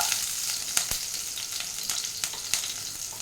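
Chillies and garlic fry in hot oil in a pan for Schezwan rice, with a steady, close sizzle and crackle broken by small sharp pops and the scrape of stirring.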